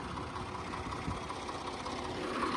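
Old Swaraj 855 tractor engine running in a farm field, a steady low rumbling drone with a continuous even throb, fairly close and uninterrupted throughout.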